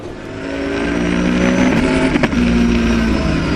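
Race cars, including a BMW 1 Series, roar past on the Zandvoort circuit in a loud sustained engine drone that builds and holds, with a brief crackle near the end and no talk.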